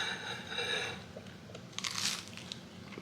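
Someone eats a runny acai bowl, with soft crunching bites and wet chewing up close, a few sharp crisp clicks among quieter mouth sounds, no talk.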